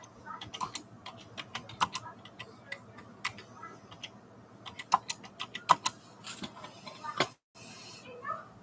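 Slow, uneven keystrokes on a computer keyboard, sharp individual clicks scattered with pauses, close and fairly clear, ending with a brief silent gap before a final few taps.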